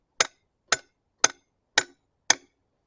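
Hammer blows on a piece of spanner used as a drift to drive a bearing out of a gearbox, five evenly spaced sharp metallic strikes about half a second apart, close and alone.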